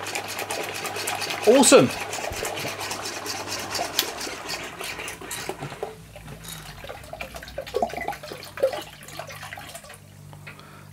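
A Stuart Turner piston water pump runs at steady speed, giving a fast, even mechanical clatter with a watery wash. A louder burst comes early, and a voice speaks briefly over the machine.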